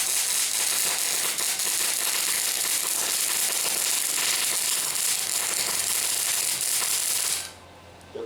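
Voltage knob being turned up to maximum on a powerful welding machine, giving a continuous ratcheting, clicking mechanical rattle for about seven seconds before it stops abruptly.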